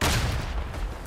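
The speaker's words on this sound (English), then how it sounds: "Sounds like a grenade or something, possibly." A grenade explosion in the WWI shooter Tannenberg, a loud, dense, rumbling blast heard up close that fills the whole moment and trails off into continued low battlefield rumble, with no speech.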